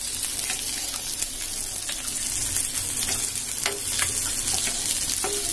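Fish frying in a pan until crisp on both sides gives a steady, close sizzle with small pops and crackles that stays loud throughout, with no talking.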